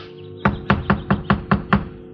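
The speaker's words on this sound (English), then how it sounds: "I knocked on the door" Seven evenly spaced, hollow knocks on a front door reached across a warped, broken-down porch, loud and close in a quiet setting, with no talk.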